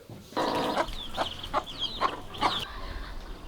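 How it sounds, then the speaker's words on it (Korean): Chickens raised on the ground floor of a rural village home cluck several times in short, uneven bursts, moderately close and fairly quiet over low background noise. "닭이나 오리들은 자연히 키웁니다."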